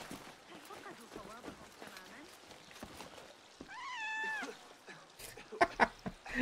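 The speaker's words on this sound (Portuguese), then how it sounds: "Os gatinhos desse jogo aqui são fofinhos" A cat in the video game Assassin's Creed Mirage gives a clear, rising meow mid-clip, followed by sharp clicks and game sounds, with voices talking in the background.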